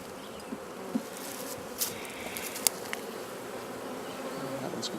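Honey bees buzz steadily around an open hive during an inspection, a continuous close drone with occasional brief clicks and taps from frames or tools over the hum.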